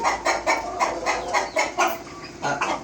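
Three tiger-coloured hens and a rooster cluck close by in quick, repeated bursts that come at a fairly even pace, with no talking over them.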